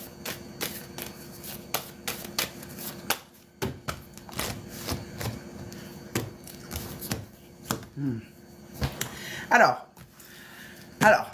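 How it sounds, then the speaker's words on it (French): Tarot cards shuffled by hand in a steady run of soft riffling taps and flicks, close and fairly quiet, with a few brief voice sounds near the end. "je mélange les cartes et vous me dites stop"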